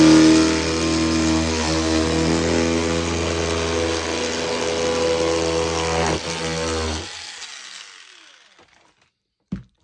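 A decades-old, never-used cordless electric knife cutting, a loud, steady motor whine with a strained, buzzing tone for about seven seconds, then spinning down and fading, with a brief knock at the end.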